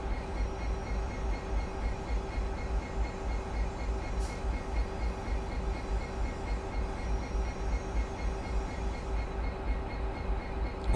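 Electric train in Train Sim 2019 on the Trent Valley line, a steady rumbling drone of motors and rolling wheels with a constant low hum, continuous and even throughout with no talk.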